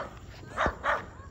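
Two short barks from a dog at moderate distance, spaced about a quarter second apart, over faint background noise.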